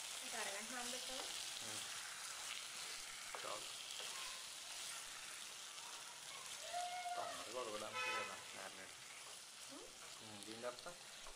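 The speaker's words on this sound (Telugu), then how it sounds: "చికెన్ను బాండీలో వేసుకోవాలి. వేసుకొని ఒకసారి బాగా కలుపుకోవాలి." Chicken for Chettinad chicken curry sizzles in a kadai and is stirred, a soft steady frying hiss with occasional stirring noises beneath a person talking.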